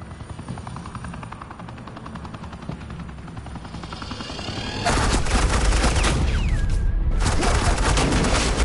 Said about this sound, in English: Suppressing fire.